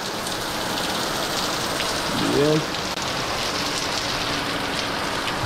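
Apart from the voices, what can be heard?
rain falling outside in Jamaica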